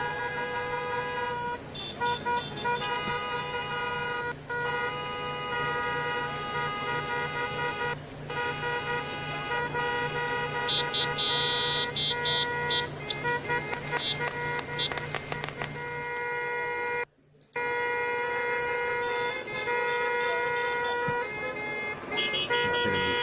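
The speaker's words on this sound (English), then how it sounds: "Way too many cars honking their horns." Car horns honk repeatedly in the distance at a Los Angeles street protest, overlapping tones sounding on and off against steady traffic noise.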